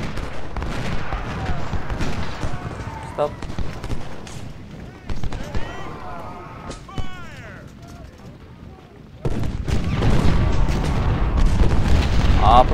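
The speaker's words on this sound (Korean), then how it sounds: "아, 이 대포 소리가 그리웠어요." Cannon fire in Ultimate General: Civil War at the Battle of Antietam, with repeated deep booms and crackling volleys of gunfire across a long stretch, loud and continuous under a voice talking over the battle.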